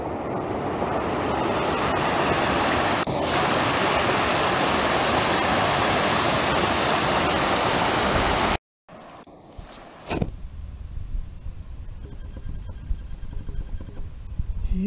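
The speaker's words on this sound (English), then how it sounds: "Yeah, the water's flowing pretty good here." Rushing stream beside a backpacking trail to Emigrant Lake, a loud, dense, continuous roar of flowing water that cuts off abruptly and gives way to a quieter, more distant wash with light handling noise.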